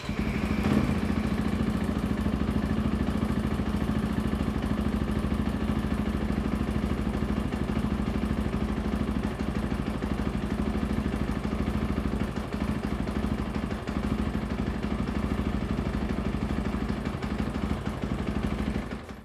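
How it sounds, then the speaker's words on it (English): A motorcycle engine idles at a steady, moderate level for a long stretch, its low chugging rumble mixed with light mechanical clatter. "let's go ahead and start the bike and check our grip heaters"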